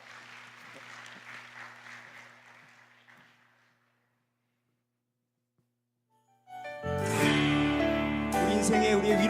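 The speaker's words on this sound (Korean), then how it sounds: "박수로 환영해 주세요." A church congregation claps for about three and a half seconds, a dense patter that fades into silence before music begins loudly.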